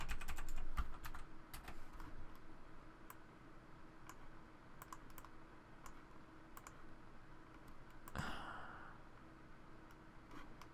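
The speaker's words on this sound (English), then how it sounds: "I'm going to type in template" Rapid clicking of keys on a computer keyboard as text is typed, bursts of quick taps close and faint, pausing briefly before resuming.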